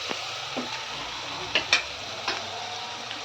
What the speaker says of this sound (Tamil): இப்போ நம்ம காயும் போட்டு நல்லா வதக்கிடலாம்